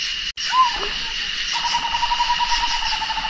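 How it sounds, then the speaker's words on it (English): An eastern screech owl gives a descending whinny followed by a long, steady trilling call, close by over a background of insect hum while camping in the mountains. "A screech owl. Is that what it is? I bet it is. It is. Eastern screech owl."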